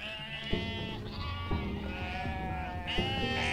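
Sheep in the video game UnMetal bleat repeatedly in overlapping, wavering cries, a loud flock sound with several calls starting one after another.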